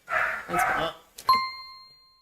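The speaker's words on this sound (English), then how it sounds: "Did I hear a dog?" A dog gives two quick barks up close, followed by a struck bell-like ding that rings and fades.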